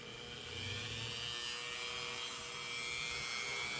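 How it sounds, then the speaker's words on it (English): A Dremel rotary tool cuts slowly through a truss rod cover on a Samick Royale guitar, giving a steady, close, high-pitched grinding whine with faint rasping, continuous and unbroken for the whole stretch, with no talking. "Okay, now I'm going to cut out the truss cover. Just gonna go nice and easy with this Dremel tool."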